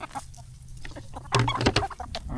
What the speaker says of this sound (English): those are the newer roosters are here and here, and the 3 hens over there